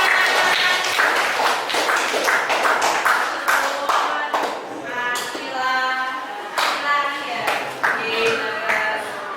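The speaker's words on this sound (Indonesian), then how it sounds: "Tuh, tepuk tangan." Scattered hand claps from a small group, uneven and brief, mixed with chatter and voices talking over them.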